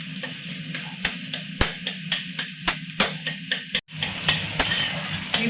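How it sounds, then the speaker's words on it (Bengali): Egg is broken up and scrambled bhujia-style with a metal spatula in a pan for tadka, with regular scraping clicks of the spatula over a soft, steady sizzle, close and with no talk. "খুন্তির সাহায্যে কুচি কুচি করে একটু ভাজা ভাজা হোক।"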